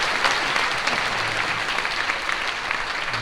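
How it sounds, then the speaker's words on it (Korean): Steady applause from a church congregation during a thanksgiving service marking a denominational general assembly president's inauguration; dense, even clapping fills the whole stretch with no voices over it. "여러분 박수로 좀"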